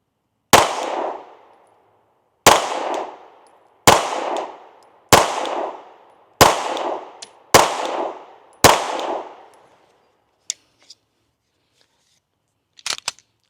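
Seven sharp pistol shots ring out at a steady, unhurried pace from a Glock fitted with an original factory optic cut, an Acro sight and a Radian Ramjet, each crack loud and close with a short decaying tail, followed by faint metallic clinks.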